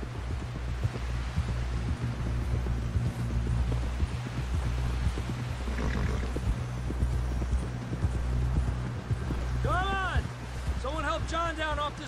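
Horse hooves gallop in steady, rapid clip-clop rhythm through the video game Red Dead Redemption 2, loud and continuous, with game characters' voices over the hoofbeats near the end.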